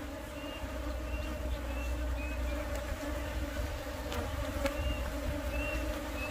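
Honey bees buzz around beehives in a soft, steady drone, with individual bees whining past now and then against a low background hum.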